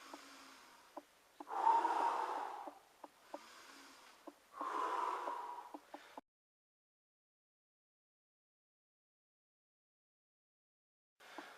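Heavy breathing during bodyweight squats in the Lafay method: three rough, loud breaths in and out over about six seconds with soft clicks between them, then a long silence and a short breath at the very end.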